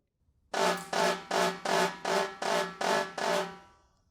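Quiet snare drum roll played so softly the bounces blur together, coming in a steady series of about eight short swells of buzzing rattle, one per hand stroke, alone with no talk.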